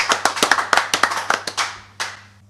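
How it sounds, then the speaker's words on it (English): An audience at a pub quiz gives a short burst of brisk clapping for a contestant, fairly close, fading out after a couple of seconds with one last clap. "Give Barry a round of applause"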